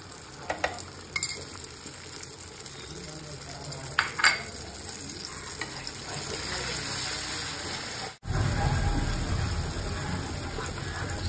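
Cashew and paneer paste with ginger paste fries in a pan, a steady sizzle broken by a few light scraping stirs early on, then swelling louder and fuller after a brief drop near the end.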